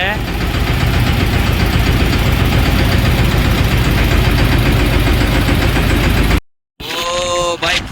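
A tractor engine idles with a steady, rumbling chug that runs nearly the whole time, then cuts off briefly before a voice is heard.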